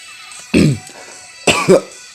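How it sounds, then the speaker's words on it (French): Two short, harsh coughs close to the microphone, the second a double burst, separated by a brief quiet pause. "désolé pour cette petite toux"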